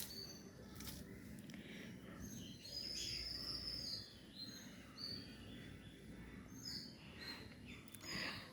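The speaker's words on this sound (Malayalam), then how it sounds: "കിളികളുടെ സൗണ്ട് നന്നായിട്ട് കേൾക്കാം" Scattered bird chirps and calls at dusk, faint and distant, over a low background hum with no talking.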